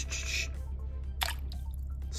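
A toy Triceratops skeleton drops into bathtub water with a short splash, followed by light drips and faint liquid movement, heard close and alone.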